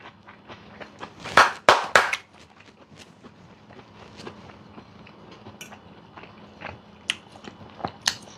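Close, wet chewing of hot Italian sausage with spaghetti, a few loud crunchy bites early, then softer irregular mouth sounds and small clicks while eating continues.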